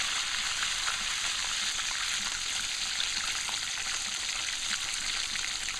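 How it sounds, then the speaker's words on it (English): Chicken fries in hot oil in a pan as a tender fried chicken dish cooks, giving an even, continuous sizzle with fine crackles at moderate level and no talking. "But you let it fry a little more, or 2 minutes more, and it's finished."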